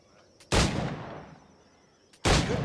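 Two sharp, loud pistol shots from the video game Assassin's Creed Black Flag ring out about two seconds apart, each with a brief decaying echo after the crack and quiet pauses between.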